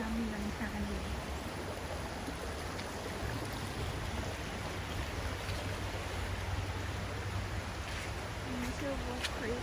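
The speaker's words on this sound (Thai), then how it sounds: "แวะดูลำธารตรงนี้นะคะ" Creek water flows steadily along a forest trail, a constant broadband rush that stays even and close throughout, with faint bird chirps and soft speech briefly above it.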